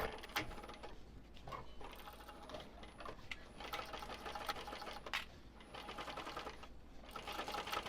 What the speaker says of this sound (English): I'm going to sew this with a 1/4 inch seam allowance